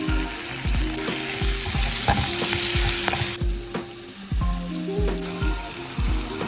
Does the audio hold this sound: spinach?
yes